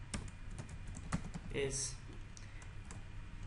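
Close keyboard typing while entering a formula in an Excel spreadsheet, a quick run of irregular key clicks under a person speaking.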